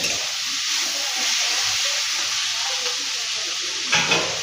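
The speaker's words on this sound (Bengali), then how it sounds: "তো একটুখানি এটাকে আমি নেড়ে দেবো ভালো করে।" Spices sizzle loudly in hot oil in a pan for chicken biryani while being stirred, a constant hissing fry with a sharper scrape of the spoon near the end.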